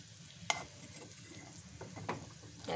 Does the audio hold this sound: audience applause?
no